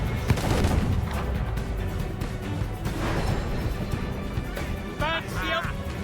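Ship cannons booming in the video game Assassin's Creed Black Flag, heavy repeated blasts rolling over one another at close range, with crew voices calling out over the firing.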